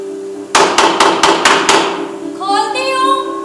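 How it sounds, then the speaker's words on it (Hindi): Six quick sharp knocks rap on a door, loud and close, evenly spaced in a fast burst, followed by a voice speaking. "सदा दरवाजा खटखटाने की आवाज सुनाई पड़ती है"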